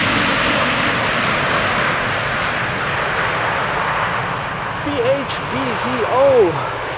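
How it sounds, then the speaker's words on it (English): KLM flight 744 from Lima, Peru, arrives at Amsterdam Schiphol on a humid day, a loud sustained jet engine roar that swells toward the end, with talk over it. "KLM flight 744, arriving from Lima"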